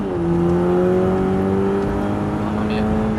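An Audi TT tuned to nearly 300 horsepower accelerates hard, its engine drone loud and close as its pitch climbs steadily under the throttle.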